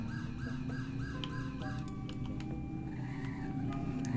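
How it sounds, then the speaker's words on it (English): Emergency siren of a 2020 Ford F450 ambulance in a Roblox game, a steady repeating electronic wail with rising and falling tones over a low engine hum, moderately loud and close. "here's one of the sirens"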